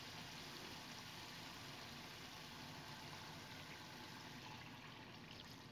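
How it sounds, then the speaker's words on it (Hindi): Water is poured into a pot of chicken curry, giving a steady, continuous trickling and splashing wash that stays fairly loud and even for the whole stretch, with no talking. "अभी हमने इसके अंदर ऐड करना है पानी"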